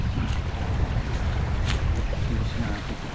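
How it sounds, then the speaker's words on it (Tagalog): Steady wind rushing over a boat at sea, with continuous low buffeting and wind noise hitting the microphone for a few seconds, no breaks or gusts standing out. "Sarap ng hangin na."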